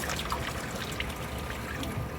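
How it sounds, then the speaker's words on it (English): Water draining from a reef aquarium system through a dedicated water change line, a steady trickling, pouring flow heard alone at moderate level. "Just by turning this valve, this will drain the fish system, the reef system,"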